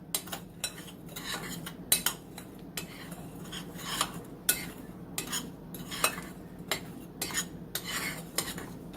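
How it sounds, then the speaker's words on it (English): Hot chocolate mix and chocolate chips stirred together in a bowl, a spoon scraping and clinking against the sides in an uneven rhythm of sharp taps over a low, steady background hum, close and with no talk. "So I'm just going to mix all of this together."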